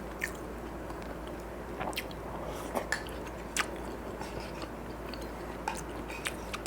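Close, soft chewing and biting with occasional crisp clicks while eating snakehead fish soup with kaiyang herbs poured over rice, steady mouth sounds with no talking.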